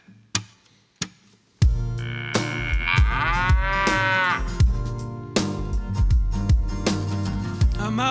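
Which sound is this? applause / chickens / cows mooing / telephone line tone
cows mooing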